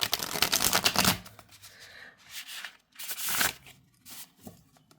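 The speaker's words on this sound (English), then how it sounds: "let's riffle shuffle on camera" A tarot deck, Tarot of the Crystal World, gets riffle shuffled: a dense, loud card-flutter burst followed by softer rubbing and shorter riffles and bridging slaps, close and with no talking.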